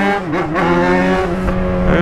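A motorcycle weaving through city streets drones with a steady, loud engine note that rises and dips slightly as it rides, close and continuous with no speech.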